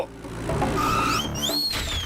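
A cartoon motorbike engine hums steadily, then winds down with a rising-and-falling whine as the bike comes to a stop, loud and close with no talking.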